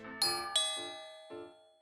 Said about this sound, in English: Then, the doorbell rang.